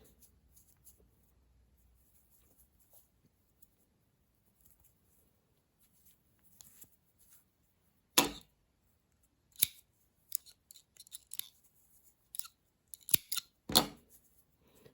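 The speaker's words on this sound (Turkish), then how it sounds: "Burada ipimi kesiyorum" Scissors snip through crochet yarn after near silence, a few sharp, close metallic cuts with small handling rustles in between, with no talking.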